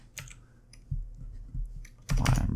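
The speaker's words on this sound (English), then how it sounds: "I'm really not typing very well today." Typing on a computer keyboard comes in scattered bursts of clicks, with a denser cluster of loud keystrokes at the end, close and clear in a quiet room.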